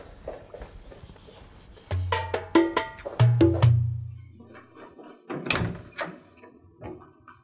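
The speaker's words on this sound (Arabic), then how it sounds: "بعد اذنك ابو عيسى بروح اشوف من عند الباب" Footsteps and door sounds as someone goes to answer the front door at home: several clunks and thuds of a door opening, loud and close, followed by brief movement noise.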